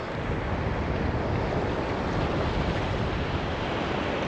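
Sea waves roll and wash steadily along a Baltic shoreline during shore fishing for sea trout, a loud continuous surf roar mixed with wind buffeting the microphone, with no speech.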